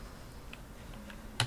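Keys tapped on a computer keyboard while a router command is entered in a CCNA static routing lab; a few soft, sparse clicks lead into a quick cluster of close keystrokes at the end.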